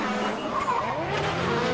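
A Nissan Silvia S13 drift car skids at a Pure Drift event, giving a steady tire squeal and engine roar heard from a fair distance, unbroken for the whole moment.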